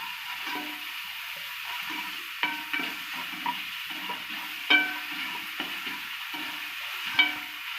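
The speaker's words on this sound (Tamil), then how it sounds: "நம்ம அரைச்சி வச்சுக்கிற இஞ்சி பூண்டு பேஸ்ட்டு அதை போட்டு நல்லா வதக்கணும்" Ginger garlic paste being sautéed with onions for a crab gravy, a soft steady sizzle under repeated scraping and stirring strokes with a few sharper knocks, close and moderate in volume, with no talking.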